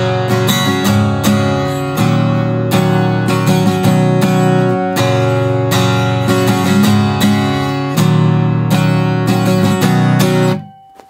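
Strummed guitar playing a repeating chord pattern for the verse of a song, steady rhythmic strums played twice through, close and loud, ringing out at the end.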